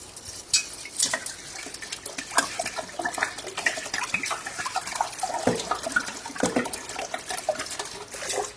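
Filtered water is poured into a container of soaking rice and dal for dosa batter, a close splashing and trickling with light clinks of the vessel throughout.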